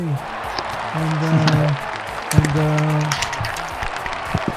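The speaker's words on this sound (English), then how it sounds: "Clap your hands, hey!" Hands clap steadily through a crowd at the close of an interview session with a freelance character artist, the patter running the whole time beneath a voice talking over it.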